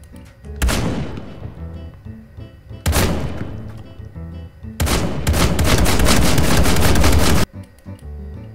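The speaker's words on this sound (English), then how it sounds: "How do you guys think Finn would handle a shotgun to the kneecap?" Shotgun blasts in People Playground: two loud single shots a couple of seconds apart, then a longer sustained burst of rapid fire that cuts off abruptly.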